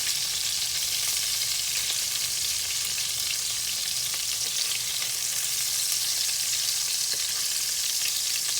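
Ground beef patties fry in a pan with a constant, close, loud sizzle and crackle that holds steady throughout, no voices present.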